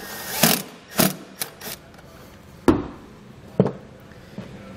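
Self-tapping screws driven to mount a circuit breaker during a trailer brake controller install on a 2015 Toyota, heard as a few short, sharp mechanical bursts and clicks with pauses between, fairly quiet, no talking.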